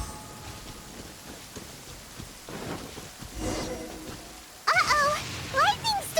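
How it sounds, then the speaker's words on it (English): Thunder rumbles and rain patters during a lightning storm in the Genshin Impact video game, a low rolling build with steady rainfall, followed by voices speaking over the storm. "Uh-oh! Lightning storm!"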